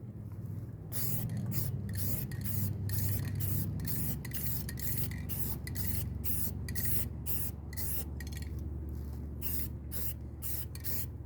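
Rattle-can spray paint hissing out in a series of short, even bursts of light coats, one after another at close range, with a steady low hum running underneath.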